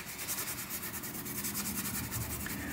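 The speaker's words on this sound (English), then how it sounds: "I'm just gonna scrub to remove a little bit of the grease and some of the rust" A scuff pad scrubs greasy, rusty parts from a Richards Wilcox woodworking vise in steady, rapid back-and-forth strokes, a continuous close rasping hiss with no talk.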